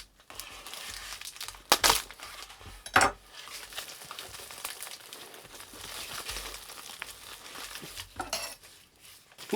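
Blade slicing through crinkly bubble-wrap packaging during a package opening, a steady crinkling and crackling rustle with a few sharper clicks and snaps, close and fairly quiet throughout.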